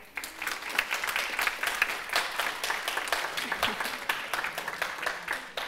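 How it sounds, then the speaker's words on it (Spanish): An audience at a Spanish-language talk on canine maternal and puppy nutrition gives a sustained round of applause for a speaker, dense irregular hand claps filling the room, moderately close and steady throughout. "Un aplauso para ella."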